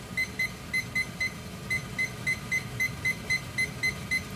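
A kitchen timer set for boiling rice noodles gives a series of short, evenly spaced electronic beeps, about fifteen in quick rhythm, loud and close with a faint hiss behind and no talk.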